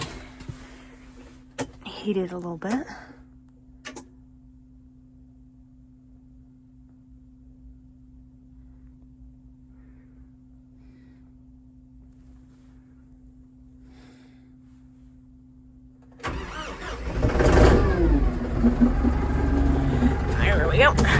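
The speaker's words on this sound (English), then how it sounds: "Gotta start the Kubota so it can run for a while" A Kubota tractor on a dairy farm sits idle under a low steady hum while someone speaks briefly. Its engine then cranks and catches, jumping to a loud rough diesel run that continues to the end.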